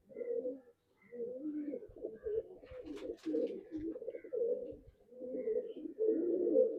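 Pigeons cooing in a loft, repeated soft low coos in close overlapping bursts, with a few light fluttering and scratching sounds in the middle.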